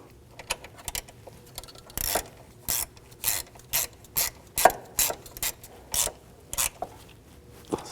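A hand ratchet tightens the clamp screw on an auxiliary water pump of a 2006-2009 Audi S4, giving about a dozen short, evenly spaced clicking bursts up close, with no talking.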